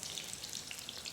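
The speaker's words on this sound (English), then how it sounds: "Let it fry." Pakoras deep frying in hot oil, a faint, even bubbling crackle with scattered tiny pops, steady and unbroken over a brief moment.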